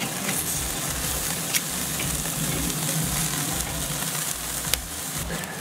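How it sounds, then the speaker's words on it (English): Steaks sizzle steadily in a hot pan after being flipped, one salt-brined and one soaked in pineapple juice, with a dense, even frying hiss and a couple of faint clicks, close by and heard alone. "All right, so let's turn these."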